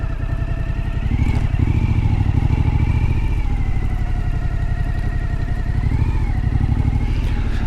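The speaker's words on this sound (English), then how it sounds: "I'm lucky being on this motorcycle." A motorcycle being ridden, its engine running loud and steady close by throughout, with a few slight shifts in pitch as the rider changes speed.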